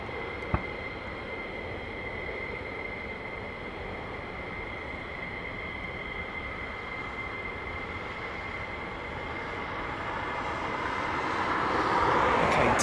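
Steady, continuous jet engine roar from a Lockheed Martin F-22 Raptor fighter jet, a constant whine over broad rumble that slowly swells louder toward the end.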